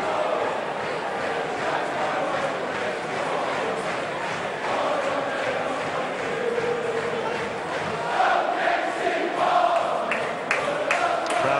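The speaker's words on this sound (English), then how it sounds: "Crowd singing Casey Palmer's name" A football crowd at a Bristol City versus Charlton Athletic match singing in unison for player Casey Palmer, a broad continuous chant filling the stadium, with a commentator's voice over it.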